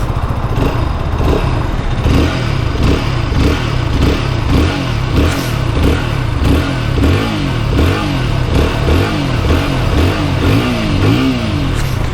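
A 2026 KTM RC 160 motorcycle exhaust rumbles loud and close, with a throbbing idle broken by repeated throttle blips and revs over roughly twelve seconds, with no talk.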